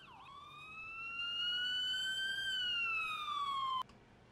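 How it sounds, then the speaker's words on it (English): A single ambulance siren from the video game Emergency 4 wails in one long rising-and-falling sweep, loud and clear, then cuts off abruptly. "There comes our ambulance."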